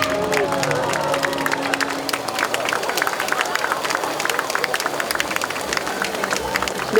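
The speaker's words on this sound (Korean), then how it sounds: "큰 박수로 함께 해주시기 바랍니다." Applause breaks out at a ceremony in Daegu marking Dongseongno's designation as a special tourism zone, a sustained crowd clapping at mid distance with some cheering and crowd murmur mixed in.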